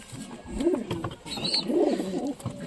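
Domestic pigeons in a loft coo in soft, throaty, rolling phrases, close by and repeated, with faint rustling and a brief higher chirp in the background.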